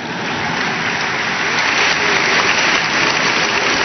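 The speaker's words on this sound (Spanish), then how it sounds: "bueno, aplaudan nomás, no se preocupen." A large audience applauds during a presidential speech by Rafael Correa, with a dense, sustained wash of clapping that swells slightly and continues without pause.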